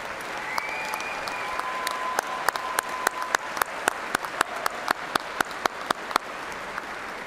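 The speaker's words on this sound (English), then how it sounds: "showing your appreciation for these very important people in your lives with a generous round of applause" A graduation ceremony audience applauds in a steady, sustained round of clapping that fills the hall, with distinct individual claps punctuating the wash of sound throughout.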